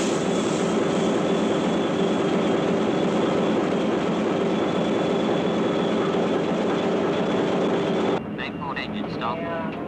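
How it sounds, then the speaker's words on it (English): A ship's port main engine runs in a constant heavy drone with a steady mechanical hum, then cuts out abruptly near the end, leaving a quieter room with faint voices. "stop that engine"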